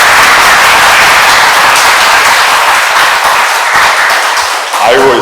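A congregation at a Catholic charismatic prayer meeting in the Bundang district of the Suwon diocese breaks into dense, loud clapping that holds steady and dips briefly near the end.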